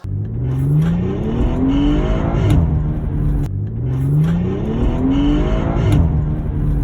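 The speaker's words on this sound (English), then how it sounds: "If your BMW ever makes this sound" A BMW F-generation 2 Series engine revs up twice in identical bursts, its pitch climbing with a strained whirring tone, loud and close with no talking.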